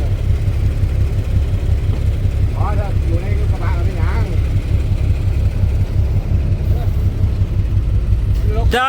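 A tractor stuck in soft soil strains with a low, throbbing engine drone that holds steady and close throughout, while voices talk over it.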